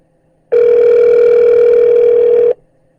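A loud, steady telephone line tone lasting about two seconds plays alone as a call is put through to a City of Wasilla office.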